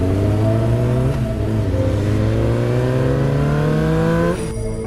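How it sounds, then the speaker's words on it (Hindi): Cartoon motorbike speeding away, a loud continuous engine whine rising steadily in pitch for several seconds before cutting off abruptly. "बाबा बाइक भगाने लगते हैं"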